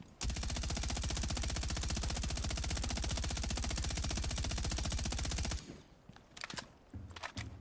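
Rapid automatic gunfire from a suppressed weapon in the video game Rainbow Six Siege, a dense, steady burst lasting about five seconds, then fading into scattered quieter game sounds.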